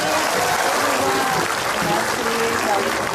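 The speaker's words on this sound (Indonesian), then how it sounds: "Tepuk tangan dulu buat Donita nih." Studio audience on an Indonesian television talk show breaks into applause, a dense, sustained clapping that runs loud and continuous, with faint voices mixed beneath it.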